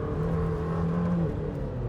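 Lamborghini Temerario prototype engine at low revs on track in Corsa mode, a steady, industrial-sounding drone with a sustained low hum, close and continuous throughout.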